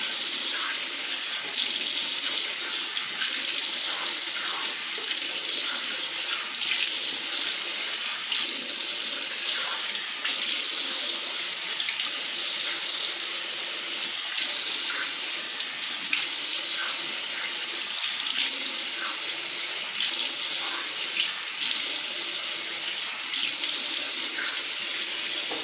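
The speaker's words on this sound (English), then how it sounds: "Okay, so I got my warm water again, hot to warm water, whichever you choose, and I'm just gonna rinse it out." Warm water runs steadily from a tap while hair is rinsed, a loud continuous splashing stream with no break for the whole stretch.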